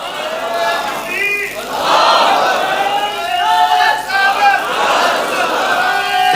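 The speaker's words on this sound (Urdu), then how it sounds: "تو ایک بہت اچھا سا نعرہ لگائیں۔" A crowd at a religious gathering honouring Imam Hussain chants a slogan in loud unison. Surging voices rise and fall in waves for several seconds, close and full.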